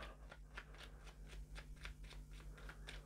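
Playing cards shuffled for a board game, a close, quiet run of rapid riffling bursts repeating at a steady rhythm, with no talking.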